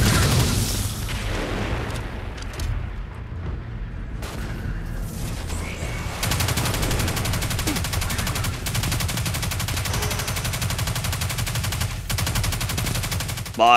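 Heavy weapon fire in the shooter game Destiny 2, a dense, continuous stream of rapid shots with booming impacts that runs loud throughout and thickens further in the second half.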